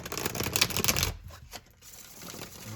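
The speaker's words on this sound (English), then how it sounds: "I'm going to go ahead and give these cards one more shuffle" A quick, crisp riffle of tarot cards being shuffled close by, a fluttery burst that fades into quieter rustling.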